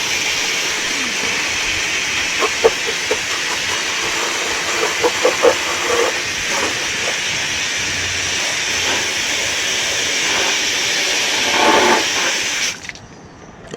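Steady loud hiss of steam venting from an overheating air-conditioning system with a contaminated refrigerant circuit and failing compressor, continuous for most of the span with faint ticks and knocks, then cutting off abruptly near the end.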